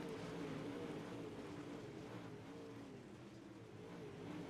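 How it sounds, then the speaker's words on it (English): IMCA-style modified dirt race cars roar past on a bumpy dirt front straightaway at Lernerville Speedway, a continuous loud engine drone with RPMs wavering up and down as they pass close by. "You hear those cars and the RPMs bouncing up and down as they pass by the camera."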